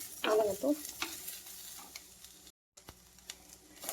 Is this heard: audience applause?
no